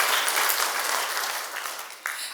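Warm, dense applause from a civic gathering honoring the Leadership Atlanta class of 2024, a continuous wash of many hands that fades slightly before a brief swell near the end.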